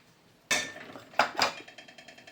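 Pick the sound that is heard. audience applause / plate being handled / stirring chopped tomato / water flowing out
plate being handled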